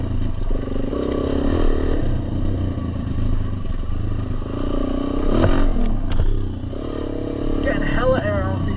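Dual-sport motorcycle engine droning steadily while riding a rough trail, with clattering and scraping from rocks and sticks underfoot and a brief higher rev near the end.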